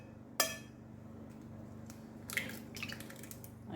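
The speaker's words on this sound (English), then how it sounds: "I'm cracking one large egg into a bowl." A large egg is cracked into a bowl, giving one sharp crack near the start, then a couple of softer clinks and a wet drop a moment later, close and clear over a steady low hum.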